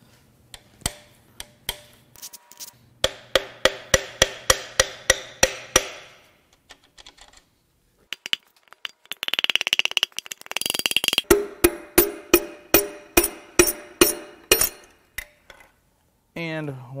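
Metallic tapping and clanking ring out in fast repeated bursts while connecting rods and pistons are pulled from a Ford 4.9L 300 straight six during teardown, close and sharp, with pauses between runs.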